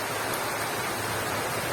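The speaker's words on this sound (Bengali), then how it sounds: "বৃষ্টির আওয়াজটা শুনছো?" Steady rain pours down during a monsoon storm in a village, a dense continuous hiss with no breaks, close and even in loudness.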